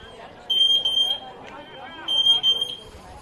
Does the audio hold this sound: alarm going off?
yes